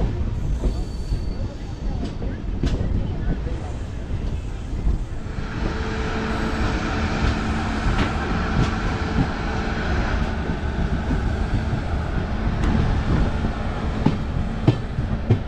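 A Jan Shatabdi Express train with LHB coaches rumbles and hums steadily close by at Tiruchirappalli Junction, with faint clanks and station bustle in the background.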